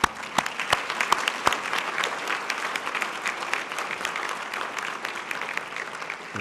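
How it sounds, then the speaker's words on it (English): An audience at a youth center humanitarian awards event breaks into steady applause, many hands clapping in a dense, even patter that starts with a few sharp claps and continues throughout, moderately loud with no speech. "we should all give him a hand of applause"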